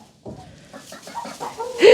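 Hens clucking close by in short, uneven bursts, rising toward a louder squawk at the end.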